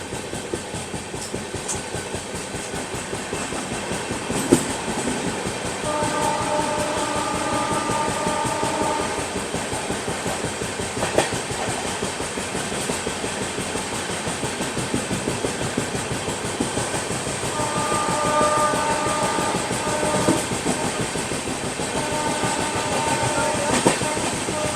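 A Bandra–Bhuj AC Superfast express train runs past Sabarmati Junction, heard from onboard with a steady rumble and rhythmic clickety-clack of wheels over rail joints, plus occasional louder knocks, continuous throughout.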